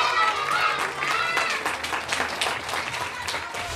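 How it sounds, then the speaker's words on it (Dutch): An audience applauds for a child performer on a children's TV show, lively clapping of moderate loudness that rises and falls, with some voices mixed into the sound. "Applaus."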